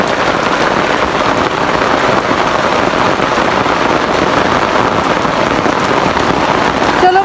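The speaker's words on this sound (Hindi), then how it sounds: "हवा भी कितनी तेज रही है बारिश।" Heavy rain driven by strong wind pounding a rooftop, a loud dense continuous roar of drops that stays constant throughout.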